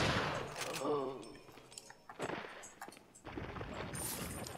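Shotgun fire in the Resident Evil 4 video game, several sharp booming blasts spaced a second or so apart, with reverberant tails and game noise between shots.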